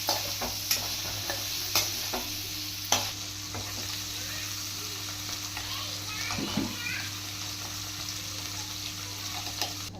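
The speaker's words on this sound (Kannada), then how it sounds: "ಇವಾಗ ಮಿಕ್ಸ್ ಮಾಡಿರೋದು ಪನ್ನೀರು ಎಣ್ಣೆಯಲ್ಲಿ ಹಾಕೊಂಡು ಎಲ್ಲ ಫ್ರೈ ಮಾಡೋಣ." Paneer fried and stirred in oil in a pan, a low steady sizzle broken by a few sharp utensil clinks early on, with faint children's voices and household noise in the background.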